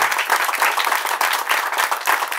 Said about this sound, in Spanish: el cual pido un fuerte aplauso